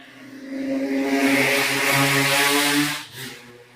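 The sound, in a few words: motorcycle passing by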